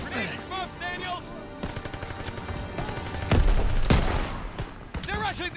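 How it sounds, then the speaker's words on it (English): Rapid, sustained gunfire in the World War II shooter Call of Duty WWII, with bursts of automatic fire and heavy booming shots among shouted voices and battle noise, loud and close. "Suppressive fire! Keep firing! That gun is still live!"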